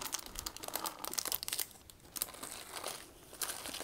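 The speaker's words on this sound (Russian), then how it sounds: "Получается, внутри у нас прозрачный пакетик." A transparent plastic bag of Crimean Floris tea berries crinkles up close in irregular rustling bursts, with short pauses between the handling sounds and no talking.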